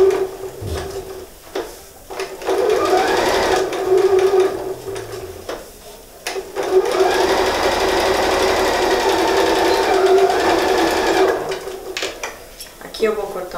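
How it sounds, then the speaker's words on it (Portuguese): A sewing machine stitching all the way around a quilted fabric book cover, running in two long steady bursts with brief pauses and clicks between them, close and loud. "E eu vou fazer uma costura em toda a volta, deixando essa abertura para desvirar."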